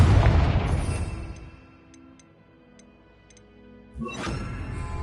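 Confringo blasting spells in Hogwarts Legacy: a loud fiery burst that fades slowly, a quiet stretch with faint ticking, then a second sharp blast with a rumbling tail.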